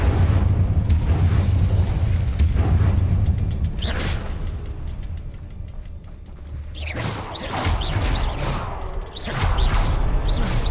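Fire spells go off in the game Hogwarts Legacy with loud whooshing bursts and rumbling blasts, one at the start, one midway and several more toward the end, separated by a quieter stretch.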